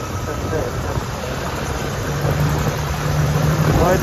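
A car engine hums steadily and grows slightly louder as the vehicle pulls away, with voices talking over the running motor.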